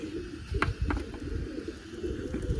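Pigeons coo in low, rumbling bursts while being fed crumbs of roti bread, with a few short fluttering or scuffling sounds mixed in; the cooing stays close and continuous.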